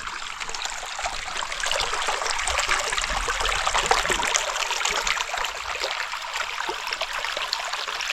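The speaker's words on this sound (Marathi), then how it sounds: "पाण्याचा मस्त खलखल खलखल आवाज येतोय" A village stream babbles and splashes continuously, close and fairly loud, with no voices.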